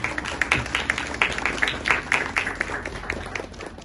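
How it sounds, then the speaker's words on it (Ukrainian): Audience applause at a joint Christian and Muslim prayer service honouring soldiers who died defending Ukraine, a moderate spread of claps with no speech over it. "Пропоную оплесками подякувати нашим воїнам за їхню е, посвяту."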